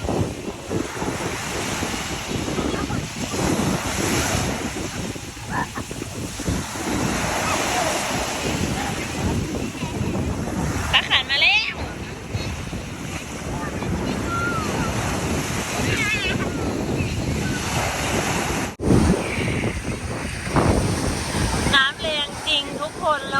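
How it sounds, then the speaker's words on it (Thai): Strong wind buffets the microphone at Bang Saen beach while surf waves crash and wash continuously, loud and close throughout, with occasional faint voices in the background. "ลมแรงมากเลยนะคะตอนนี้"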